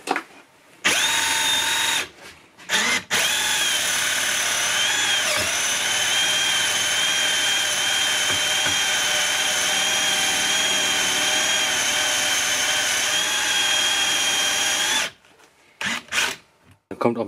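A drill boring into wood with an unused Bosch flat wood bit, running in a long steady whine for most of the time, loud and close, with short pauses at the start and end.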